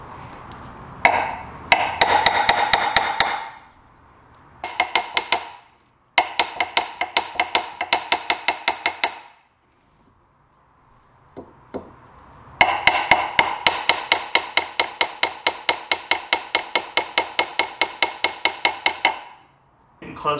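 Bursts of rapid, sharp metallic hammer taps in quick, even rhythm, seating a bearing into an engine crankcase, pausing between runs, close and loud, with no talking.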